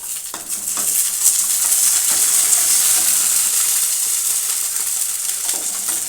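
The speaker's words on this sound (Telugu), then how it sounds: "వేపుకుంటున్నాను." Oil frying in a pan makes a strong, continuous sizzle that stays fairly even, broken by a few faint clicks and taps, with no one talking.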